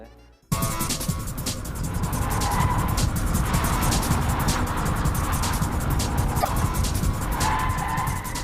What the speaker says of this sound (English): will check the stability of the new turbo on the slalom